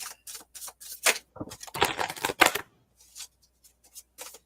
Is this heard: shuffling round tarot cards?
yes